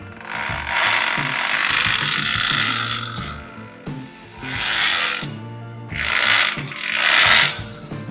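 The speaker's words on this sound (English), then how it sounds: "let's give it a test run and drill into this piece of wood right here" A power drill bores into a piece of wood after a broken plug repair, in several loud bursts of whirring and grinding separated by brief pauses, alone with no talk.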